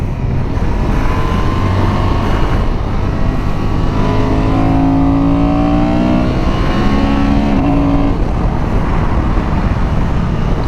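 A Honda Transalp 750 motorcycle engine pulls hard into a turn on the road, a steady loud drone with rising pitch sweeps under heavy wind rush throughout.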